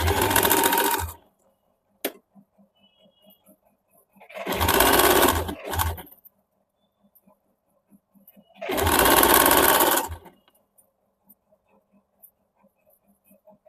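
A sewing machine stitching the bottom hem of a suit, heard as three distinct runs of fast stitching separated by quiet pauses with faint clicks.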